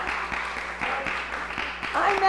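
A church congregation claps in a steady, rhythmic beat at a Unitarian Sunday service. The claps are moderately loud and fill the room, with voices under them.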